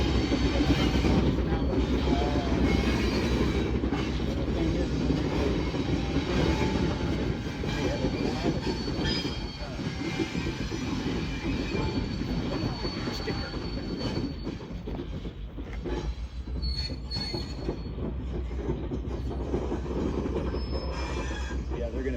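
A train rolls steadily along the track at a railway museum for the whole stretch, a loud continuous rumble with metallic wheel squeal and rattling throughout.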